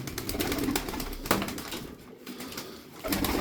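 Sarıkır tumbler pigeons coo close by in a loft, low repeated calls mixed with light rustling and occasional wing flutters, steady throughout with no one speaking.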